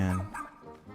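A dog gives a single short bark, loud and close, that quickly fades.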